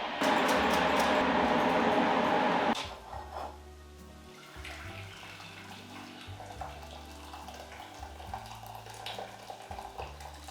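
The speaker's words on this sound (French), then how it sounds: "Je vais rajouter un bouillon de légumes dans cette poêle" Vegetable broth pours into a frying pan of cooking shallots, a loud steady rush of liquid for under three seconds, then quieter bubbling and simmering continues alone.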